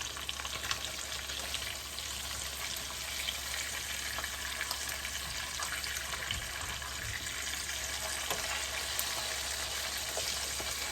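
Mrigal fish pieces fry in a pan of oil with a constant dense crackling sizzle, fairly faint and unbroken, with no talk.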